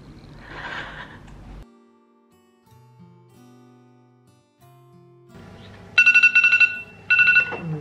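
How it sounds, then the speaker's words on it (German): A mobile phone ringtone breaks out after soft sustained tones, playing as two bright, loud, melodic bursts with a short gap between them. "Das hat mein Handy schon gut eingeläutet."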